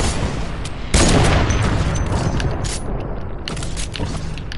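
A single loud hunting-rifle shot in the video game Fortnite cracks out close and sharp about a second in, followed by a busy wash of game noise with a few fainter clicks and thuds.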